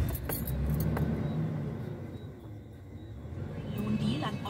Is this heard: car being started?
yes